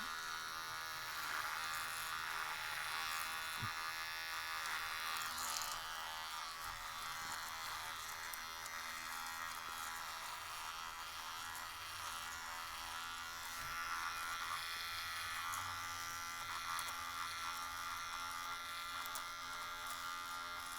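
Electric razor shaving a mustache: a continuous close buzzing drone that lasts the whole stretch, with slight changes in tone as it moves across the skin and a few faint bumps and handling noises.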